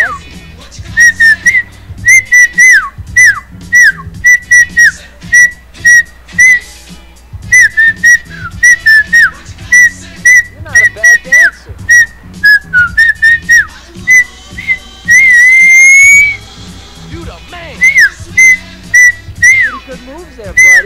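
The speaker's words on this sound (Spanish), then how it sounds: "voy a silbar porque no quiero tener copyright en el video" A man whistles a tune during a GTA: San Andreas gameplay session, in short repeated melodic phrases with brief pauses for breath, loud and close, with game sounds faintly underneath.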